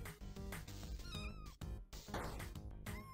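Cartoonish cat meows sound repeatedly from the video game Wholesome Cats, short bright calls over a busy musical game soundtrack with small effects, fairly quiet overall.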